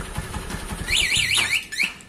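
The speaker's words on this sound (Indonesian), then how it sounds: "berhasil untuk pemasangan alarmnya ya teman-teman" A motorcycle alarm fitted to a Honda Megapro, set off by vibration, sounds nearby in loud warbling electronic sweeps that rise and fall several times, over a few knocks and rattles.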